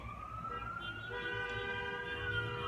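A rising siren tone gives way to long, sustained car horn blasts over a steady street rumble.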